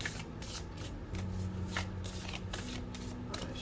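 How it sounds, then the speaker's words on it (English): A deck of tarot cards being shuffled by hand, a steady run of crisp riffling flutters close up over a low, constant hum. "I'm gonna shuffle again."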